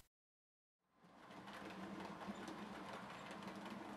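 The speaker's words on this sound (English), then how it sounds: "hauls a rake of 5 suburban coaches with ease around Hornby magazine's office test track" A Hornby 00-gauge D16/3 4-4-0 model locomotive in British Railways black, pulling five suburban coaches on an office test track, starts after a moment of silence and then runs on as a steady whirring motor and rail rumble.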